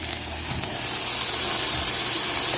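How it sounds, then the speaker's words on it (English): Water hits a hot griddle under melting cheese and bursts into a loud, sustained steaming hiss that rises partway through and continues steadily. "I'm going to do a little tiny bit of water"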